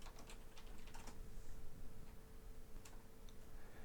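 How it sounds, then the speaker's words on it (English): Quiet, rapid clicking of keys on a computer keyboard as a username and password are typed, soft irregular taps over a low background hum. "So we'll type in administrator and our password."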